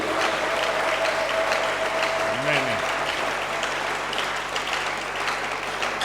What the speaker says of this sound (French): Est-ce que tu peux m'encourager par les acclamations?